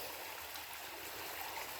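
A small creek flows steadily at a California gold and relic hunting spot, a close, continuous watery rush and trickle with no voices.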